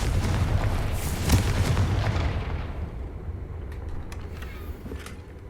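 A Confringo fire spell in the video game Hogwarts Legacy erupts with a loud, rumbling explosive boom that peaks early, then fades into a lingering low roll with a few faint crackles.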